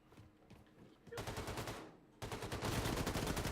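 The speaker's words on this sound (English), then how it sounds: "Who started shooting at me?" Rapid automatic gunfire in Wolfenstein II: The New Colossus, two sustained bursts of fast, evenly spaced shots, the second louder and closer, following quieter game ambience.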